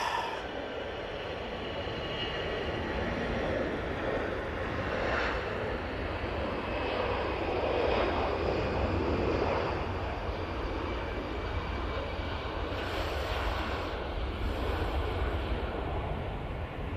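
A Jet2 Airbus A321ceo takes off from Manchester Airport, its engines a broad, distant roar that swells and fades gradually across the runway, with no talking.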